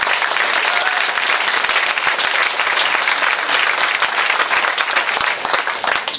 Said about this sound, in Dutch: Dus een applaus voor Hannelore, voor de serieuze info.